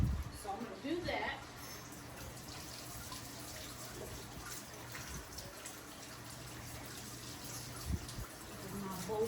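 Warm water running from a tap to make jalapeño cheese bread dough, a steady splashing hiss that continues throughout while a person talks over it.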